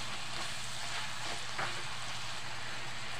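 Shrimp frying in butter in a pan, sizzling steadily with a close, continuous hiss, and a utensil stirring the pieces with soft scraping and a brief louder scrape midway.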